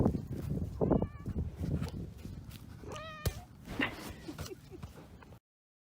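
A barn cat meows a few times during a winter storm at a horse stable, close and moderately loud, with rustling and handling noises around it.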